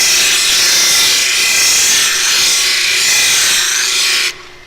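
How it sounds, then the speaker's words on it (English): An 18-inch disc sander grinding wood, a loud continuous abrasive rasp held steadily up close for several seconds before cutting off abruptly, with no talk. "So we're going to go ahead and we're going to sand that."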